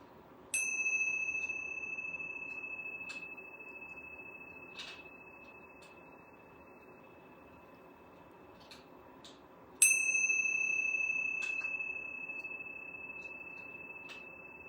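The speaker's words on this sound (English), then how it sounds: "I'm going to ring these yoga bells 3 times." Yoga bells ring out twice, each a clear, sustained metallic ding that slowly decays over a quiet room, the second strike about nine seconds after the first, with faint small taps in between.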